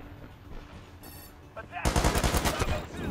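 Gunfire in the video game World War 3 with an AK rifle: after a quieter stretch, a sudden loud burst of rapid automatic fire rattles on for over a second, with faint background battle noise before it.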